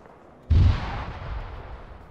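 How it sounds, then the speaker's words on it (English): In the game Arma 3, a mortar round lands with a single heavy, booming blast that rolls out into a fading rumble, loud and fairly close. "Still mortars."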